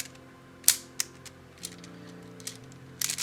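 A 3D-printed 4x4 cutaway cube twisty puzzle gives a few sharp plastic clicks and snaps as its layers turn. The cube is slightly misaligned. The sounds are sparse and fairly quiet, ending in a quick cluster of clacks.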